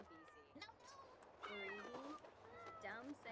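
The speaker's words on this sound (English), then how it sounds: "I'm just going to speak to it and try and stop it meowing." A cat meows several times in short, rising and falling cries at low volume. A voice can be heard around the meows.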